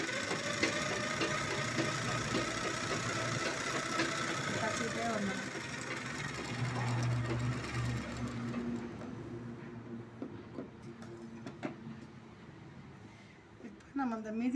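A sewing machine runs steadily while stitching a 40-inch blouse with a pa neck, its motor whirring throughout with a few brief clicks near the end; a voice speaks over it.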